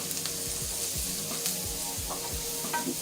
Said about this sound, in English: Right now I'm letting the flour cook a little bit.